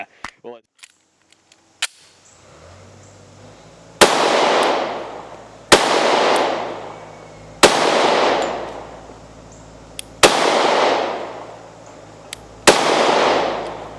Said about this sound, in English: I intend to shoot that until it fails or I run out of ammo